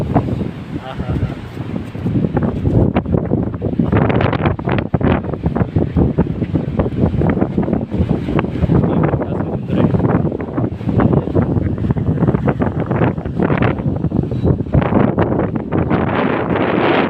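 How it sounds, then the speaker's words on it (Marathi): Sea waves surge continuously on a beach near Daman, loud and close with strong wind buffeting the microphone, a steady roaring wash with no voices. "तिथं बघा त्या लाटाचा आवाज येऊन राहिला आहे"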